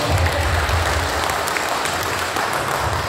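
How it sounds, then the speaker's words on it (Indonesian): An audience applauds Andrea after a motivation-sharing session for church parhalado, the clapping steady and dense for a few seconds with a low rumble underneath and no voices. "kita berikan tepuk tangan ke Andrea"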